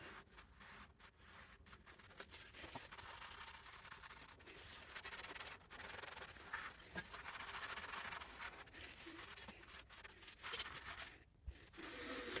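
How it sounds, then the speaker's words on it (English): A hand scrubs oily gunk inside the headstock of a Colchester Triumph 2000 lathe during an oil flush, making faint, close, uneven rubbing and scratching strokes that continue without pause and with no voices. "Just being able to get my hand in and give it a good scrubbing makes all the difference"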